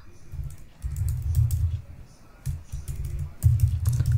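Typing on a computer keyboard while entering Android code, steady clusters of close soft key clatter in bursts with brief pauses.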